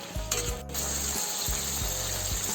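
Local chicken fries in a pan over a low flame with no oil, giving a steady close sizzle with soft low pulses and a brief scrape partway through.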